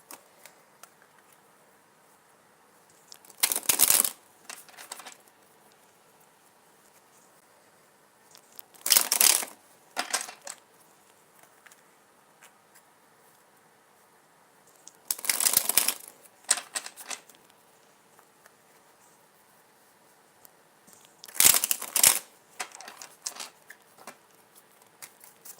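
Tarot cards are riffle-shuffled in four quick, crisp bursts of fluttering card noise spaced several seconds apart, each burst close and sharp against near silence.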